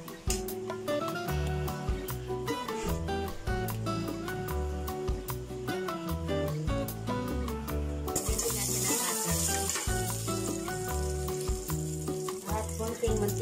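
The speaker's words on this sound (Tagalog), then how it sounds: "Mainit na po yung ating mantika. Lagay na po tayo ng butter." Butter sizzles and fries in hot cooking oil in a pot while creamy sopas is prepared, a steady, dense crackle throughout that turns brighter and hissier partway through, with faint clinks of utensils.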